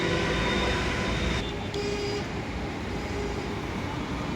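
A metro rail train runs past Uttara South station at night, a steady broadband rumble and rush that holds at an even level throughout with no voices.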